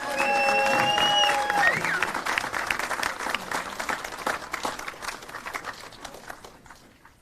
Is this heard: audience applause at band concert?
yes